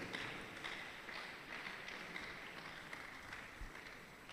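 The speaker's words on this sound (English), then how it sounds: "Keep clapping now." Audience applause greeting Miss Blessing Oladele as she takes the stage at the Techxellence tech event, a steady, dense wash of clapping from a standing crowd, filling the room evenly and continuing without a break.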